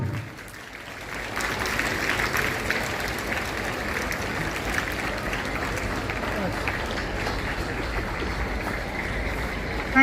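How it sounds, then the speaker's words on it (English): A crowd at a school investiture ceremony breaks into sustained applause, broad and even, filling the hall at moderate loudness after a brief quiet start and holding steady throughout. "Kindly give a huge round of applause."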